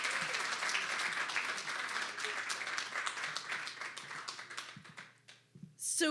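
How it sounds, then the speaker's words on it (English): Audience giving a speaker a big round of applause at a talk series event, steady clapping from a crowd that thins out and fades near the end before a brief louder burst. "Let's give her a big round of applause"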